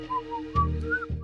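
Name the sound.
person whistling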